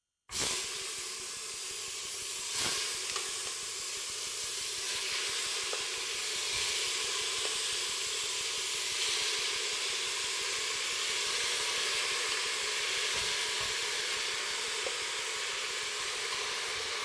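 Lamb browning in coconut oil in a pan, a steady, moderately loud sizzle and hiss that runs continuously with occasional soft pops and no talk.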